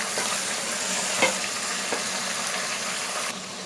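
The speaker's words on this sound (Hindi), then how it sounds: "चिकन को इतना भून लेंगे ताकि इसका कलर चेंज हो जाए।" Half a kilo of chicken with green chillies frying in a pan, a steady loud sizzle with occasional scrapes of stirring, close and without talk.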